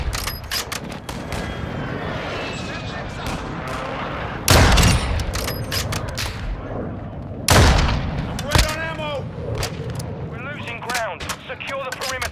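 Rapid automatic gunfire and heavy explosive booms from the video game Call of Duty: Modern Warfare II ring out in loud bursts, with two big blasts standing out amid the firefight while game voices speak over the action.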